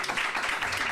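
An audience claps at a press event kicking off a Ramadan hunger-relief drive: a short, dense burst of steady applause with no pauses.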